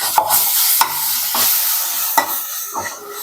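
Ginger garlic paste sizzles in a pan for chicken gravy while a utensil stirs it, with several sharp scrapes and clinks over a hissing background.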